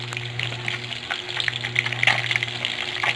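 Pieces of food fry in a pan with a steady close sizzle and scattered crackling pops, alone, over a low kitchen hum.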